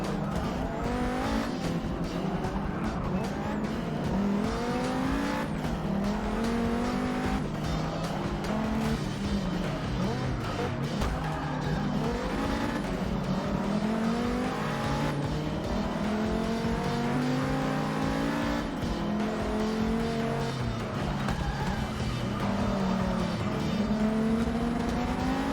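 Race cars roar through a Forza 6 race in a continuous loud wash of engines, with shifting revs, gear changes and cars passing close by, and no talk.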